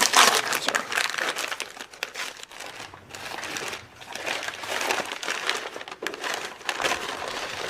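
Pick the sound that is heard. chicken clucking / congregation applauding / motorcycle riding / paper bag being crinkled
paper bag being crinkled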